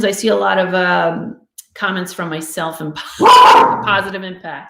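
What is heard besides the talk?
dog barking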